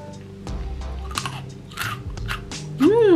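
Crunchy little chocolate-covered biscuits from an Asian snack being bitten and chewed up close, a run of dry crunches with brief pauses, ending in a louder burst.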